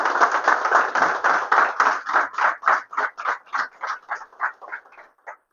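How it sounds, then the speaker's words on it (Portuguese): A congregation at a church cell group gathering claps in unison with a steady rhythm. The applause is fairly close and gradually thins and fades out. "vamos aplaudir Jesus pela vida dessa família."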